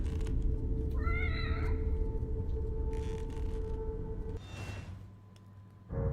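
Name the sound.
cat meowing in the video game The Evil Within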